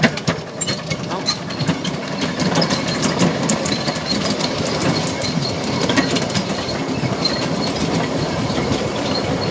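Steady rumble and clatter of a train rolling along rails, continuous and fairly loud, with rhythmic clicking throughout.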